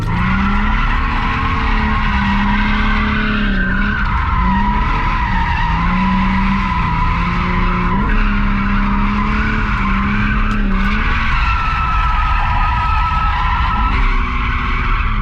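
Car tires squeal loud and continuous while drifting on a stock car without an e-brake, with the engine droning underneath and the pitch wavering as the slide changes.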